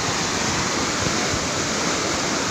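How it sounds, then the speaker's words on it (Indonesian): The flooding Cipalabuh river rushes as a steady, dense roar of churning water that stays loud and even throughout, with no voices. "Sungai Cipalabuh sampai detik ini sudah masuk ke wilayah pemukiman Kampung Hidal."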